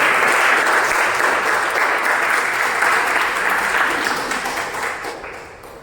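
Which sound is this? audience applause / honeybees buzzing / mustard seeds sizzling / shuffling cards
audience applause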